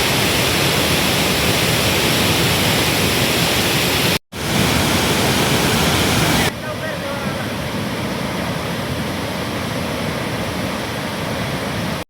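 Bhivtas waterfall in Surgana taluka roars as a dense, steady rush of falling water. After a brief cut it continues, dropping to a slightly softer, more distant wash.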